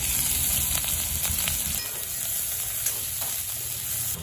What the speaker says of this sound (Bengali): তেলটা গরমই আছে, অল্প কয়েকটা জিরে ফোড়নে দিলাম